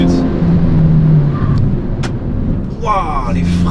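A Hyundai i20N with 204 horsepower revs hard under acceleration, the engine note climbing and sweeping upward near the end while a person talks throughout.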